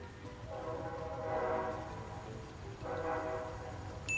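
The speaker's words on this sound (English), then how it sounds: "I think there's a train coming." A distant train sounds two long horn blasts over a steady low rumble, both faint and heard alone without talk.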